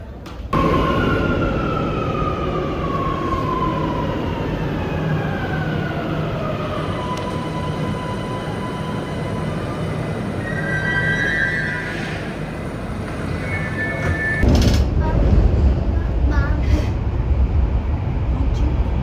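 Barcelona metro train running, a loud steady rumble and rattle of wheels on track with rising and falling whine tones and brief squeals, louder jolts near the end.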